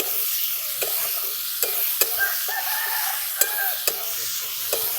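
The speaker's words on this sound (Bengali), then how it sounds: "আলুটা ভাজা ভাজা করে নিয়েছি, তারপর দিয়ে দিচ্ছি কেটে রাখা টমেটো।" Chopped tomatoes going into fried potatoes in a pan, a soft steady sizzle with several sharp clinks and scrapes of a spoon stirring, close up with no talking.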